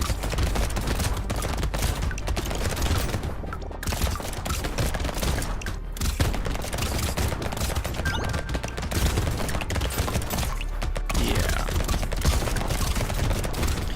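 Constant rapid SMG gunfire from the video game Brotato, a dense unbroken stream of shots holding steady and loud throughout with no talk.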